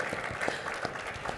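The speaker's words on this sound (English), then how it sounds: "another round of applause for Xuan." Audience applause at a sports analytics conference poker panel, a short burst of dense, steady clapping from a crowd in a hall.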